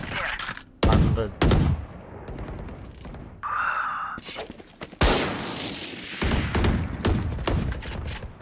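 Bursts of gunfire from the video game Valorant crack out in sharp clusters, loud and close, with reload clicks and a brief ability effect between volleys while a player talks intermittently.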